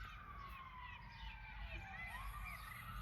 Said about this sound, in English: My little town sounds like New York City right now with all the sirens going off.